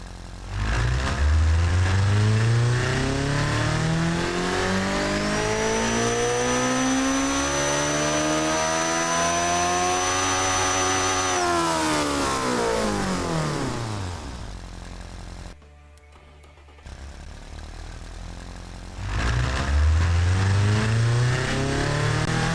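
A Toyota Prius engine in the video game Automation revs up repeatedly, pitch climbing through gears to a sustained high whine, dropping off, briefly going quiet, then roaring up again; loud and close.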